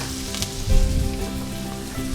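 Chopped sweet onion and minced garlic sizzle in melted butter in a pan, cooking for a venison deer heart dish; a close, steady crackling hiss swells briefly as the pieces settle.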